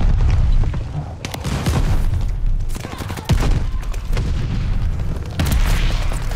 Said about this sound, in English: That's like my fourth mortar, y'all.